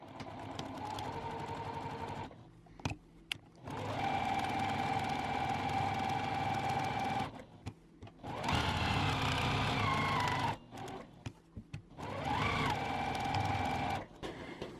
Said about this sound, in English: I'm just going to sew right along the edge of my batting